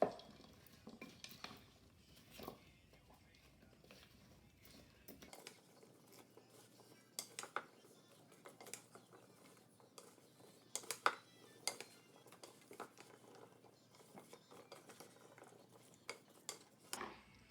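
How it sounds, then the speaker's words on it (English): A spoon clinks and scrapes faintly in a bowl as butternut squash, apple, cranberries and walnuts are tossed together, quiet scattered taps and soft stirring rustles with no talk. "Okay, let's give it a nice mix."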